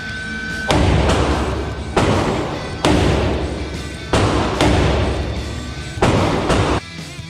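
IAI AutoMag III pistol firing at 10 yards: six heavy, booming shots spaced about a second apart, each with a long ringing tail, loud and close with no talking.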